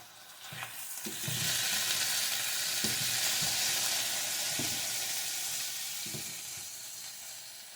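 Ham sizzling and frying in a hot pan just after being flipped, a steady bright hiss with a few soft clinks and scrapes of a utensil, close and fairly quiet.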